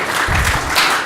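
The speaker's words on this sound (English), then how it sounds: "Hold your applause until the end" Applause fills a public bond commission meeting as newly introduced Riverwalk staff stand to be recognized, a dense steady wash of clapping close by throughout the short burst.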